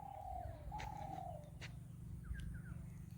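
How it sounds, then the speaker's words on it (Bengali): Dove in a quiet open field gives soft, descending coos, two clear phrases up close, over a steady low background hum, with a few faint chirps from other birds afterwards. "ওটা হচ্ছে ঘুঘু পাখির আওয়াজ।"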